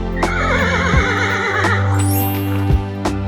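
A horse neighs loudly and close, a long shaky whinny rising and falling over about three seconds, with a few soft thumps and no talk.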